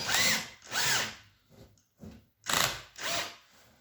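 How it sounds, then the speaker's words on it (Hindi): Electric drill turning a flexible drill extension in short bursts: four loud whirring runs spin up and cut off, with two fainter brief pulses between them, close and with no talking. "ये आप देख रहे हैं कि ये ड्रिल चल रही है यहाँ पे।"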